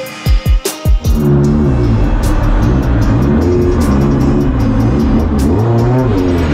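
Race cars at a Fuji Speedway qualifying session in the JCCA series, loud engines revving and accelerating with rising and falling pitch sweeps after a few sharp opening bursts, close and continuous.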